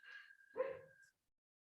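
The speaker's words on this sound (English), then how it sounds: "Sorry if you can hear my dog barking." A single faint dog bark, brief and somewhat muffled, with a thin high tone running underneath before it all falls silent.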